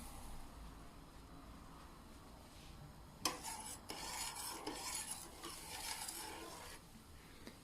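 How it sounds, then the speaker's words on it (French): A spoon stirs and scrapes rice pudding ingredients in a pot, with soft rubbing at first, then a livelier burst of scraping and clinking against the pan that continues for several seconds, close and fairly quiet. "Maintenant, je mélange le tout."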